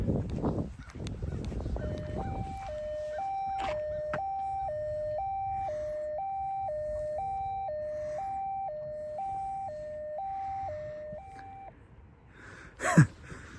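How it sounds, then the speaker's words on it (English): An electronic alarm beeps in a steady two-tone pattern for about ten seconds, moderately loud, with a faint rustle before and a sharp bump at the end. "Tick tock, where's the alarm?"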